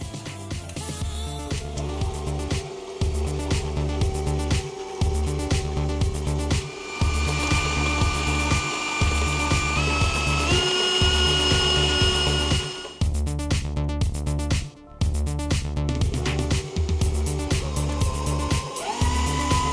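Stand mixer running on slow while beating eggs into cake batter, a loud, steady motor whir with a regular rhythmic thump from the beater, briefly cutting out and restarting.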